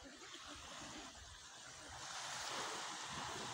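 High-tide ocean waves wash and roll continuously on an island shoreline in Surigao del Norte, a broad steady surf that swells louder in the second half, with light wind buffeting and no voices.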